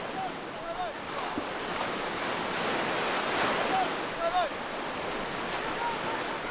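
Waves wash steadily onto the Caspian Sea shore, a broad continuous surf roar with wind. Faint bird calls sound now and then over it.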